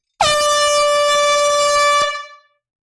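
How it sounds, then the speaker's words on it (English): A single loud, sustained air horn blast lasting nearly two seconds, close and steady, then cutting off with a short fade. "We got to bring out the air horn"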